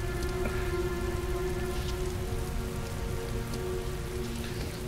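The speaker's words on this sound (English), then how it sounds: "It never stopped raining." Steady rain from the game Heavy Rain, a dense continuous patter on surfaces with a constant hiss, heard alone at moderate level throughout.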